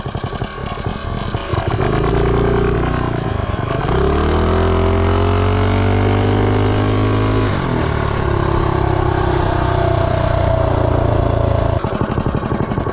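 A Mega Moto 80/105 mini bike with a swingarm upgrade revs hard through a 0-30 run. The small engine drones loud and close, its pitch climbing, dropping at each shift, and climbing again before it eases off near the end.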